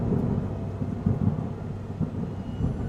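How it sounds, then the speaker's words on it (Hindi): Heavy rain pouring steadily outside, a dense constant hiss with low rumbles of thunder rolling underneath at irregular moments, no voices. "बाहर मूसलाधार बारिश लगातार बरस रही थी"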